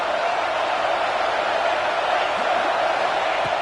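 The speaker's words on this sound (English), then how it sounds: "listen to this crowd noise. This stadium is vibrating." Loud, dense roar from a packed football stadium crowd, a steady wall of noise with no pauses.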